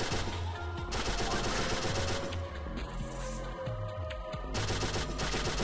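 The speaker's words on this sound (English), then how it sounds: "I'm gonna bring out the LMG again because this just literally kills everything fast." Rapid LMG machine-gun fire in the video game Pixel Gun 3D, a continuous loud stream of shots with a brief lull midway before the burst resumes, no talking over it.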